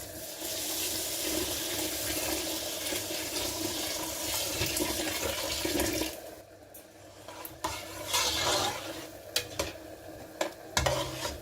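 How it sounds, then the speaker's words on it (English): Hot water is poured onto white rice in a cooking pot, giving a continuous rushing, splashing pour for about six seconds, followed by quieter bubbling, clinks and stirring, with no speech. "I'm going to add hot water and start cooking it."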